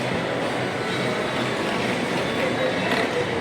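Steady, loud rumbling roar of a train passing close by, continuous with no pauses, with a faint rattling texture throughout.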